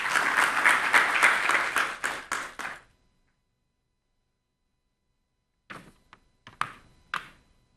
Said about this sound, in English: The great round of applause.